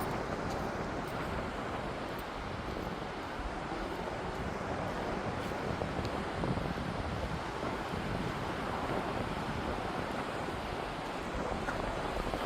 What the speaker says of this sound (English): There was something magical about just listening to the waves.